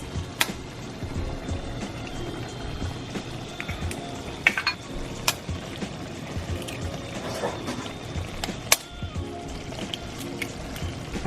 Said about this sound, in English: Time to crack the eggs